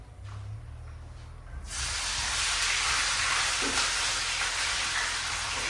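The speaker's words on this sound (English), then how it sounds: "And then fish here, I try to fry them whole." Steady, loud sizzling of a whole fish frying in a large pan, starting up abruptly after a quieter hiss and continuing as a dense, even crackle.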